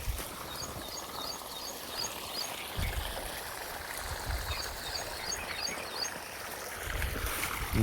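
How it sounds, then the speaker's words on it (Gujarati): Irrigation water runs steadily through a farm nursery, a continuous flowing wash with low rumbling surges and faint birds chirping in the background, no voices. "અને આપણે જો પાણી ચાલુ છે અત્યારે."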